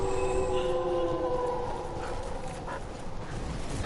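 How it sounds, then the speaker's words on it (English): A big dog enemy in the video game Dark Souls III gives out whining, howling tones over a dense rumble of game noise, and the game sound runs steadily throughout. "that's a big dog"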